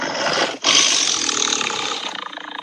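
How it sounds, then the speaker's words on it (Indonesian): A recorded tiger roar plays during a children's sound-guessing game, a loud, harsh, sustained growl broken by a brief gap and then trailing off in rough pulses, with no talking over it. "Perbedaan suaranya itu adalah suara harimau."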